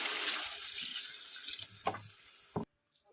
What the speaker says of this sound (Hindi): तो चलिए, इसमें पानी डालते हैं।